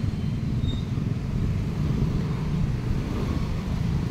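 Road traffic on a busy Saturday, a dense continuous low rumble of vehicle engines droning steadily and fairly close, with no clear individual passes standing out.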